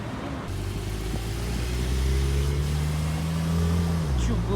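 A red Turbo S sports car's engine hums close and loud, rising in a sustained rev before settling back down, heard during a bustling carspotting outing in Luxembourg.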